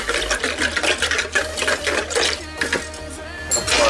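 Warm water at about 110 degrees is poured for activating yeast, a splashing, trickling stream with clinks of a container, close and fairly loud and broken into short uneven bursts.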